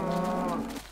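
A cow moos in the Minecraft video game, one drawn-out low bovine call lasting nearly a second, loud and close with no talk over it.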